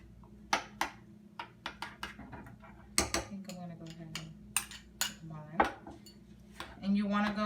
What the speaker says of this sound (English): We're going to go ahead and mix the chipotle peppers into the sour cream and mayonnaise mixture.